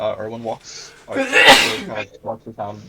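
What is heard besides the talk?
sneeze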